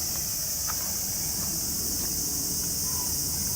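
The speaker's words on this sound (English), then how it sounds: "each cicada has a different sound, so it's easy to recognize some of them" Cicadas sing in a Tokyo summer, a steady high-pitched electric drone that holds constant and fairly loud over faint low background rumble, with no voices.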